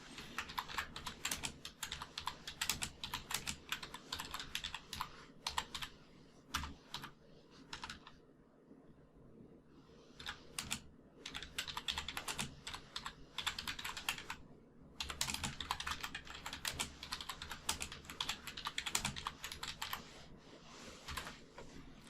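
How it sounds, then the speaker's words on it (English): Rapid typing on a computer keyboard, a steady stream of quiet close key clicks in bursts with a few short pauses, while entering a maintenance-mode message on a Moodle site. "you can also type in a message for users who wants to log in"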